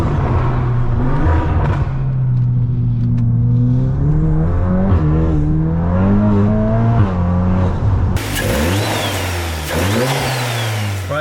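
A stage 3 tuned VW MK8 Golf R producing 535 horsepower accelerates hard, its loud engine note rising and falling through repeated revving pulls and gear changes, heard from inside the car and continuous throughout.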